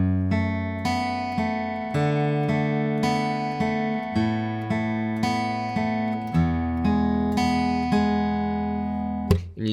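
A guitar picks out a chorus pattern, individual notes plucked in a steady repeating rhythm with ringing open strings, close and clear, ending with a brief string buzz.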